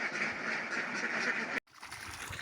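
A flock of about 700 ducks quacks continuously and loudly nearby at morning feeding, a dense overlapping chorus that cuts out briefly before resuming.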